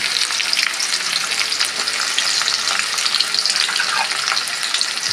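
Red shallots and garlic sautéing in hot oil in a pan, a loud continuous crackling sizzle that holds steady throughout, close and with no talking.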